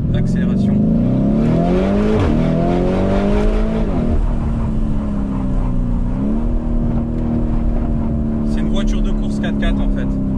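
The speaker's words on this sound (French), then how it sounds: "Je vais vous faire une brève accélération." A Lamborghini Urus sports SUV's deep engine roars loudly up through the revs with quick shifts, then settles to a steady drone; brief voices surface near the end.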